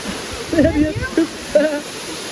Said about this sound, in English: Nah, this is a waterfall.